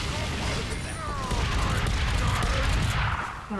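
Gunfire and booming blasts from Team Fortress 2 Mann vs. Machine build into a busy, continuous barrage of shots, with a player's voice heard in the mix.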